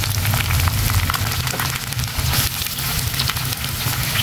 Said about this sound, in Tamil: இப்போ நம்ம வந்து கட் பண்ணி வச்சுருக்க ஆனியனை ஆட் பண்ணிடலாம்.